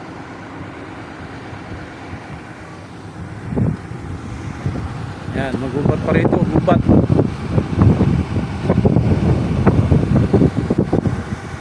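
Steady cold wind rushing and buffeting a microphone outdoors near Mount Makiling, a low continuous roar under someone talking.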